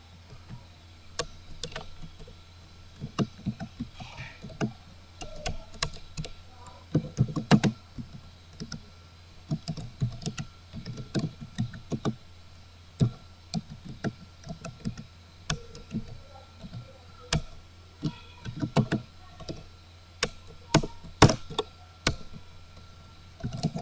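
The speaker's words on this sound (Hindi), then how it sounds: "अब देखें किस तरह मैं उर्दू लिखता हूँ बड़ी स्पीड के साथ" Fast typing on a computer keyboard, entering Urdu text: quick irregular bursts of clicking keys close up, with a steady low hum underneath and no voices.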